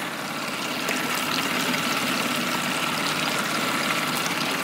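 Outboard motor on a Lund SSV boat idling steadily on a lake, a continuous near engine drone with water lapping and trickling against the hull throughout.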